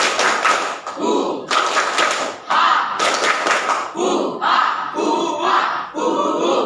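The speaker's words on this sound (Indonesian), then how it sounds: "Ini tepuk tangan khusus kelas 85" A class performs its own rhythmic clap-and-chant routine as an ice-breaker, several distinct bursts of group clapping with shouted voices, each phrase separated by short gaps, fairly close.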